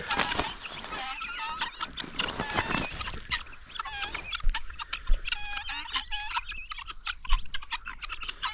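A flock of guinea fowl calling together, harsh repeated chattering cries overlapping noisily, fairly close, with a few low thumps.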